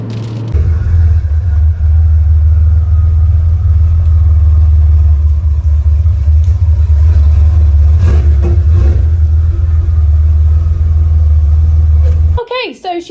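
A Porsche 911 Turbo engine runs steadily with a loud, deep low rumble that holds nearly constant for about twelve seconds before cutting off abruptly.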